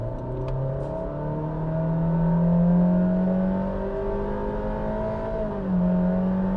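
A 2021 Honda City sedan with a 1.5 VTEC engine and CVT gearbox accelerating at full throttle, a steady rising engine drone heard from inside the cabin, loud and continuous with a slight dip and recovery near the end.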